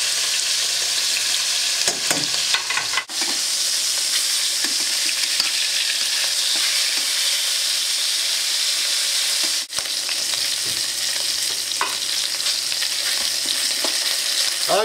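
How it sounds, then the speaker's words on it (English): Beef short ribs sear in a pan with a loud, dense, continuous sizzle, close and steady, broken by a couple of brief knocks. "I'm going to add some meat to it. So you can hear that nice sizzling, huh?"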